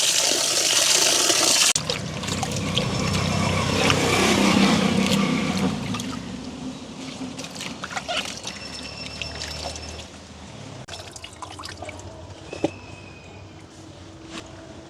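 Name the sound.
washing chillies in water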